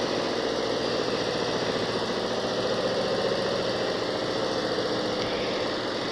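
A large embroidery machine running in a Mirpur workshop, a loud, dense mechanical drone with a fast, even rattling pulse that holds steady and close the whole time.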